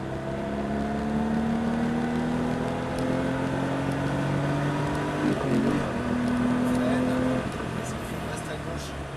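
A car engine runs loud and steady, its pitch climbing as it accelerates hard, with a brief shift around the middle before revving up again.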